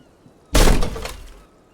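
A sudden loud crack and crunch as a small, heavy wooden door splinters in the game Disco Elysium, bursting in at full volume and then trailing off into a short rattling decay.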